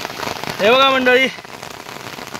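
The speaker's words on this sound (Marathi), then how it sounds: "मस्त आपल्या बागेत छान असं पाऊस पडतोय" Rain falls steadily on a garden, a soft continuous patter throughout, while someone speaks briefly over it in the middle.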